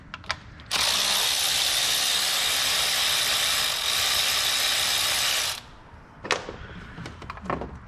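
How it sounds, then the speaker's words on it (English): Power ratchet spinning out 10mm bolts in one steady, loud, continuous whir lasting several seconds, followed by a few brief clicks and clanks from the tool and parts. "next we're gonna go ahead and remove our two 10mm bolts"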